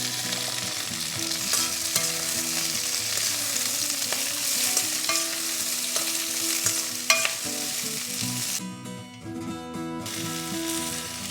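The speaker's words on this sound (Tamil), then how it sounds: "இப்போ இன்னும் கொஞ்சம் எண்ணெயை ஊற்றி ஆனியனையும் அதே மாதிரி ஃப்ரை பண்ணிக்கலாம்." Onions frying in hot oil for an eggplant sambal, a steady close sizzle with occasional stirring clinks and scrapes, continuous and alone with no talking.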